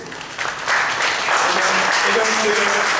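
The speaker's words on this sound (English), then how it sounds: "let's have a round of applause, please" A press-conference crowd gives a round of applause for boxer Nigel Benn during a big fight announcement, steady clapping that swells after a moment, with voices talking over it.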